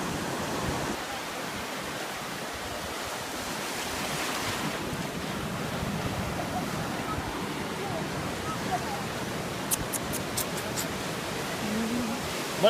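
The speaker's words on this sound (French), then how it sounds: "Elles sont où les grosses vagues?" Ocean surf washes continuously onto a beach in Kerala, India, a steady broad roar with gentle swells of breaking waves and some wind on the microphone, while faint voices talk in the background.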